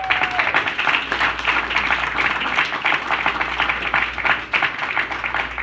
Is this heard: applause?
yes